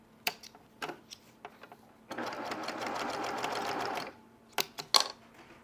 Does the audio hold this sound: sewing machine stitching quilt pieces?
yes